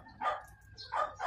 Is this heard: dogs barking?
yes